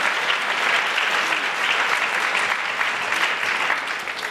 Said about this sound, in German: Applaus für Bielefeld und für das Team.